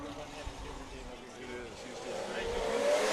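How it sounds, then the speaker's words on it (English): Race car engine at Road America droning past, a Dodge Viper at a track event, rising in level toward the end as it draws nearer, with a steady broadband roar and a faint whine under a commentator's voice. "I'm hearing Viper drive through."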